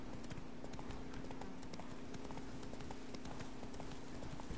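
Roach the horse gallops in The Witcher 3, steady rhythmic hoofbeats on the ground at a moderate distance, fairly faint and continuous without talk.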